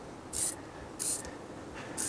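A car care product is sprayed onto a car in three short, sharp hissing bursts from a trigger bottle, evenly spaced and close.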